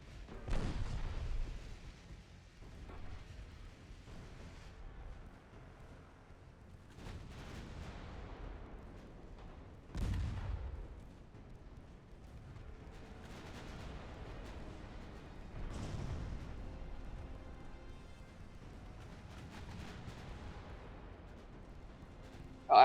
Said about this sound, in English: Actually, the main guns can stay firing HE.